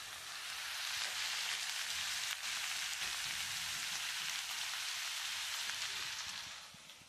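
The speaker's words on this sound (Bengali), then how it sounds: "তো এই যে বিট ভাজা বসিয়ে দিয়েছি" Sliced beetroot fries in a pan with a steady, dense hiss of oil, close and continuous, easing off slightly at the end.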